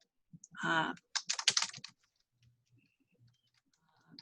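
Computer keyboard typing in two quick bursts of close, crisp key clicks, the first dense and heavy and the second lighter and scattered, followed by near silence with faint murmurs.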